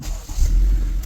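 A 2020 Acura ILX engine cranking and catching, a short loud low rumble that swells up quickly close by.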